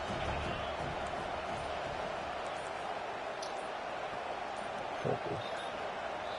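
Crowd noise at a college football game, a steady distant roar filling the stadium beneath a commentator's speech.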